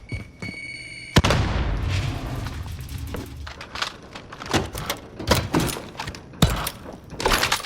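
A frag grenade blast in the Warzone Plunder video game: a sharp loud thump, then a rumbling boom and scattered gunfire cracks over game ambience, with no voice.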